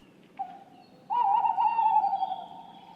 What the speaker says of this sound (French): un petit bruitage de chouettes qui ululent